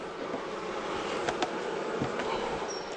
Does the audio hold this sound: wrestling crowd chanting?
no